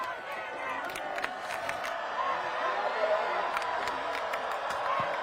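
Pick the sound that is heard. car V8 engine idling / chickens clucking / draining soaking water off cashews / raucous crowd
raucous crowd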